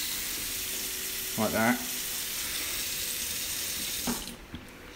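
Water runs steadily from a tap in a rental annex, a constant hiss beneath a couple of brief remarks from a voice.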